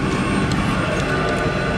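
A small passenger plane idles on the tarmac, its engine producing a steady, loud broadband drone with a continuous hum and no breaks.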